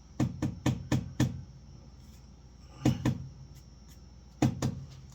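Kitchen container of onion powder knocked against a counter to loosen the contents: a quick run of five sharp knocks, a pause, two more, then one last knock, close and fairly quiet.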